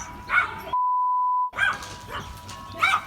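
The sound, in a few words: dog barking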